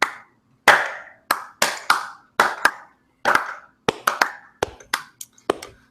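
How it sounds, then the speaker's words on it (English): Slow, deliberate hand claps, about a dozen sharp close-up smacks spaced roughly half a second apart, a few landing in quicker pairs, with silence between them and no voices. "We get a slow clap for him, boys."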